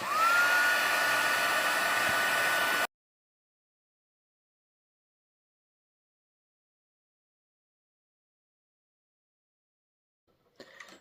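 A heat tool melts clear embossing powder on a card to give a shiny enamel look: a loud, steady blowing whir for about three seconds that cuts off abruptly, followed by silence and a faint rustle at the end.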